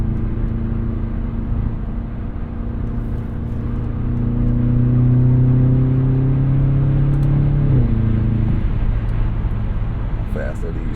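A BMW X5 M pulls hard from inside the cabin, its engine note climbing steadily through a shift. Road and wind roar stay under it, and the pitch drops back at the upshift near the end.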